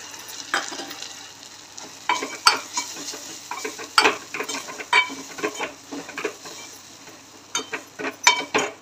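Ground peanuts with coriander and cumin powder are stirred in a frying pan for a peanut curry, with scraping spoon strokes and metallic clinks in irregular bursts over a soft sizzle, fairly close and without speech.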